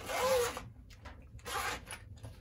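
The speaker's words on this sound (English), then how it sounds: "So you unzip and you have your connector right here." A zipper on a solar panel's back pouch is pulled open in two quiet, quick strokes with a pause between, during solo winter camping at -35C.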